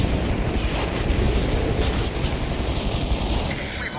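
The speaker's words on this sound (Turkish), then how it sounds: "3 tane helikopter var" In the Batman: Arkham City video game, helicopters roar in a dense, continuous rotor wash, with bursts of gunfire mixed into the noise.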